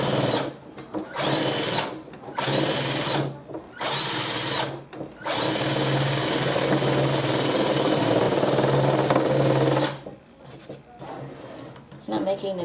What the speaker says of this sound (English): I'm going to show you what I'm doing with this drill to make this hole bigger